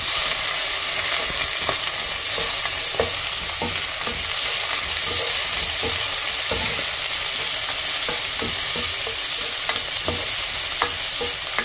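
Pancit canton noodles frying in a pan with liver, with a steady loud sizzle and repeated stirring scrapes and taps at an even pace, close, without talk.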